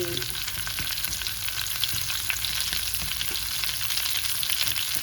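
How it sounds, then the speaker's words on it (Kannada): Tomato and green chillies deep frying in oil for a paneer butter masala, a steady close crackling sizzle with light stirring, continuous and even throughout. "ಇದೆಲ್ಲ ಡೀಪ್ ಫ್ರೈ ಮಾಡ್ಕೊಳ್ಳೋಣ ಸ್ವಲ್ಪ ಚೆನ್ನಾಗಿ ಬೇಯಲಿ"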